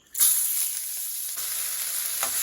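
A sudden loud sizzle as onions, green chillies and curry leaves drop into hot oil, then steady crackling frying with a brief stir-like burst near the end.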